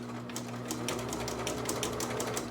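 A sewing machine stitches a two-piece shirt collar, running in a steady rapid rhythm with brief pauses around a diagonal corner stitch, close and alone with a constant low hum beneath.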